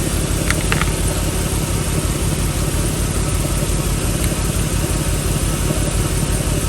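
A 2007 Toyota Tundra with the 4.7L engine idles steadily while warming up, giving a constant, loud, close mechanical hum with no change in pace.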